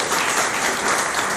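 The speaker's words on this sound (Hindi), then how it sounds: "ताली बजाइए।" Audience at a Srimad Bhagavatam lecture clapping together, a dense, loud, even burst of applause with no talk.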